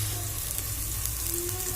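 Ginger garlic paste frying in a pan while cooking mutton curry, giving a steady, close sizzle throughout with no talking.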